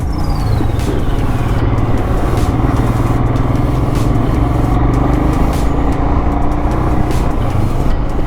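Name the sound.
heavy road traffic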